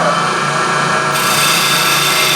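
Power drill boring into wood with an inch-and-a-half Forstner bit, a steady loud grinding whir that holds throughout and grows brighter and harsher partway through as the bit bites deeper.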